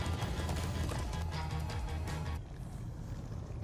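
Horse hoofbeats pounding in a gallop in Minecraft Story Mode, a steady loud clip-clop rhythm with a rumbling low end that drops somewhat in level near the end, with no talking.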